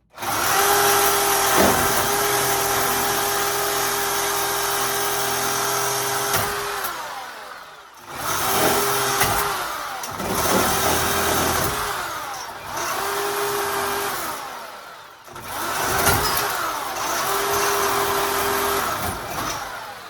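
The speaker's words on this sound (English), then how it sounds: "What's up with this Sawzall? This thing got a lot of power." Sawzall reciprocating saw with strong power runs in a long continuous burst, then in several shorter bursts with brief pauses between them, loud and close.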